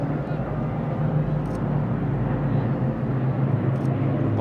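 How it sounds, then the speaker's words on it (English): A Lancaster bomber, Hurricane and Spitfire of the Battle of Britain Memorial Flight passing overhead at a ceremonial parade, a broad, continuous low engine drone mixed with crowd ambience and a commentator's voice. "Unmistakably, a Lancaster, a Hurricane on the left and a Spitfire."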